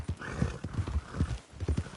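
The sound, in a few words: horse galloping in a video game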